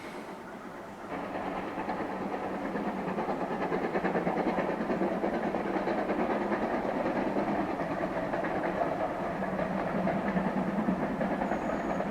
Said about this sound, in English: I can hear a train coming now